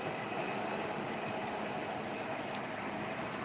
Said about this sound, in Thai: ข้างหลังเป็นรถไฟเด้แลนจวดจวดจวดอยู่